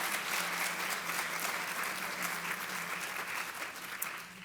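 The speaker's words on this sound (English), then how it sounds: "So let's give them a big round of applause." Audience applause at a kickoff event for sponsors, steady dense clapping filling the room for several seconds, fairly distant and even with no speech over it.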